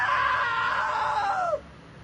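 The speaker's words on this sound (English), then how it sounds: "Now that was a great scream." A single long, high scream in the video game What Remains of Edith Finch, loud and close, rising and then falling away before it cuts off into quiet.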